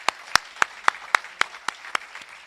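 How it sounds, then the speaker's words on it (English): A few hands clap at a high school senior sports awards ceremony, about eight crisp, evenly spaced claps in a slow, regular rhythm, fairly quiet and with no voices over them. "Let's give these impressive student athletes a round of applause."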